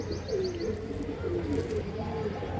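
Pure pigeon offered for sale in Hooghly cooing, a steady near run of low rolling coos with faint chirps behind.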